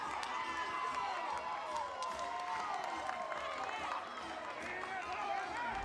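Crowd cheering around home plate at a college softball game at Joanne Graff Field, Florida State against Auburn, a steady wash of voices and shouts kept at a distance throughout.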